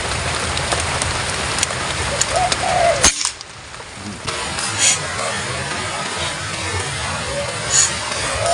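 Rain falling outdoors during an airgun hunting trip in the countryside, a dense steady hiss of drops on surfaces, loud at first, then briefly muffled before resuming, with occasional faint bird calls and distant engine noise.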